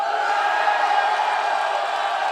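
A live esports crowd at The Grand Major 2025 for THE FINALS cheering for the right side of the stage, a dense, sustained roar of many voices, loud and even throughout.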